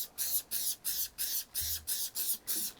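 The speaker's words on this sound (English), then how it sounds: "When you're spraying this, don't worry if it goes on leather." Leather conditioner cleaner is sprayed onto a Jordan 1 Travis Scott Reverse Mocha sneaker in nine quick, close spritzes in a steady rhythm, each a short hissing mist.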